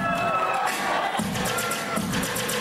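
A loud, continuous crowd cheers and shouts during a PE class, with swells of whooping voices that keep going through the whole stretch.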